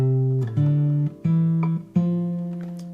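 Fingerstyle guitar picks out a walking bass line, a few low notes stepping along in an even rhythm with sustained ringing tones, played alone and close.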